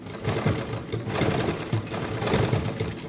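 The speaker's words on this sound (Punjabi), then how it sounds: "ਤੇ ਦੂਸਰੀ ਸਾਈਡ ਵੀ ਕੰਨੀ ਕੰਨੀ ਤੇ ਸਲਾਈ ਲਾਵਾਂਗੇ" A sewing machine runs continuously, stitching along the edge of a suit, with a dense rapid mechanical whir, loud and close.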